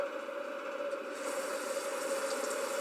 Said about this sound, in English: This time I hit it with the water.